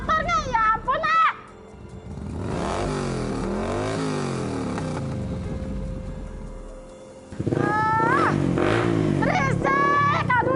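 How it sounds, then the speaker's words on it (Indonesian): A motorcycle engine revs loudly in front of a house door, a sustained rising and falling drone lasting several seconds, with children's voices talking over it before and after. "Berisik, aduh lagi sakit gigi, jangan geber-geber di depan pintu."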